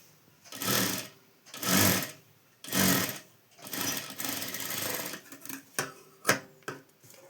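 A sewing machine stitches folded fabric for a square neckline in several distinct whirring bursts, then shorter stop-start runs with ticks and clicks toward the end, with no speech.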